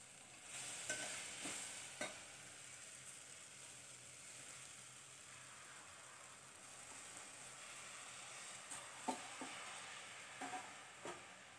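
Plain home rice is added to a frying pan for moong dal masala khichdi and stirred, giving a faint steady sizzle with a few soft scraping knocks, quiet and without talk.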